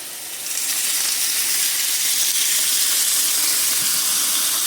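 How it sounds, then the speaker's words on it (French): Chicken gyoza in a pan hiss and sizzle loudly after water is poured in, giving a close, steady rush of steam that swells after the first half second and stays constant. "Vous voyez la vapeur, je vais couvrir."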